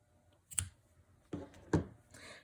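Scissors snipping sewing thread after a knot is tied, with three soft close clicks spread over a couple of seconds in a quiet room.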